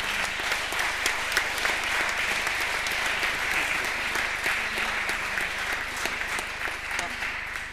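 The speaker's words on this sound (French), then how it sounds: "On applaudit bien fort une fois de plus." Sustained audience applause fills a metropolitan sustainable-housing awards ceremony, dense steady clapping at even loudness throughout, with some speech mixed underneath.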